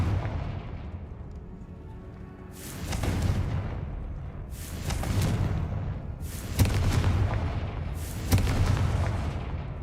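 Confringo blast spells in the Hogwarts Legacy video game: four heavy booming explosions roughly two seconds apart, each a loud burst that rumbles away into the next.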